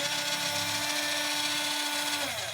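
An MN82 offroad RC car's electric motor whines steadily at high speed, a loud, continuous high-pitched buzz with a faint rising tone near the end.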